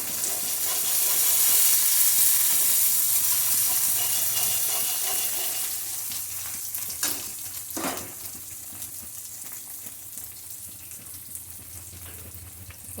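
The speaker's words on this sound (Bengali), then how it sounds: "মশলাটা আস্তে আস্তে কষানো হোক।" Spice masala with hing frying for a kachori filling, a steady broad hissing sizzle that is loud at first and gradually settles to a softer, crackly fry, with a couple of brief clatters midway.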